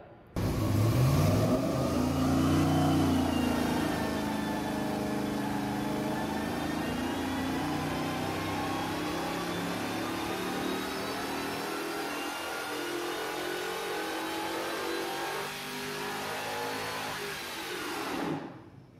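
A cammed junkyard 4.8-liter LS V8 with a used M90 supercharger revs hard, climbing in pitch with blower whine, holding high RPM for a long stretch, then dropping back and dying off at the end, loud and close.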